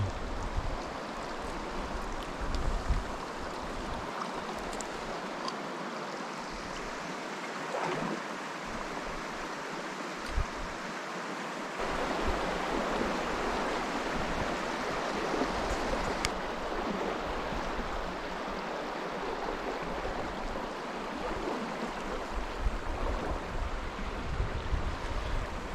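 Creek water runs steadily in a continuous broadband rush with no pauses, moderately close and fairly loud. The wash swells a little in the second half, and no one speaks over it.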